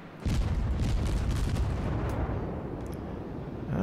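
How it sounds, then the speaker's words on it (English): Enemy ships fire their guns in a World of Warships naval battle: a dense, rumbling barrage of booming artillery that rolls on without a break for several seconds. "They're firing at us."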